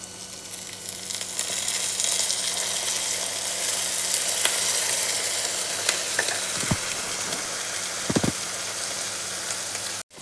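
Radish pieces frying in a pan with tamarind, a dense continuous sizzle with faint crackles, joined by a few sharp clinks of a utensil against the pan toward the end.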